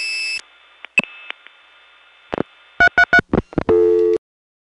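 Telephone line signaling tones from a 1980s payphone line: a steady tone, scattered clicks, a run of short repeated beeps and bursts, then a brief buzzing tone before the line falls silent.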